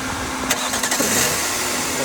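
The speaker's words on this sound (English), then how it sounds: "So now the engine's running." A Jaguar S-Type 3 litre V6 Mk1 engine cranks with a few quick bursts, then catches and settles into a steady running hum, heard up close, with a voice speaking over it.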